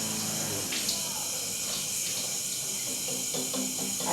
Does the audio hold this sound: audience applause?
no